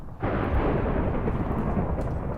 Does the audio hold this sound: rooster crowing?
no